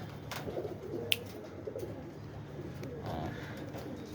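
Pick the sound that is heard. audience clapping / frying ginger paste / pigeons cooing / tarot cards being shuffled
pigeons cooing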